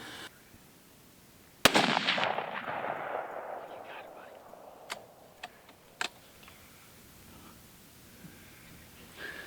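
A single rifle shot at a deer during a Mississippi deer hunt, one loud crack that rolls off in a long fading echo, then a few faint ticks and clicks in a quiet outdoor setting.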